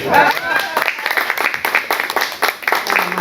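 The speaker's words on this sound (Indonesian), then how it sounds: "Tepuk tangannya mana?" A talk-show studio audience claps in scattered bursts after the host prompts them, while voices keep speaking over the uneven applause.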